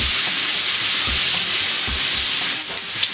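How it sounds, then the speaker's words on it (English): A steak sears in hot bacon grease in a pan, giving a loud, steady sizzle and hiss with a few soft clacks of stirring or utensil contact throughout. "Sear the hell out of this steak in that beautiful bacon grease."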